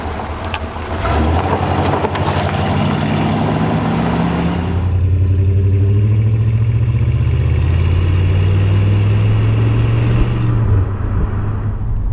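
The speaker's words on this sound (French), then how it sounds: "c'est quand même le bruit du V8. C'est très caractéristique." A 1984 Chevrolet El Camino's V8 engine idles with a steady, deep rumble that lasts the whole stretch, close and fairly loud, with a low drone that holds and then drops away near the end, and no voices.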